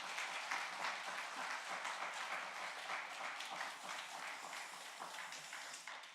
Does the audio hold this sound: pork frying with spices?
no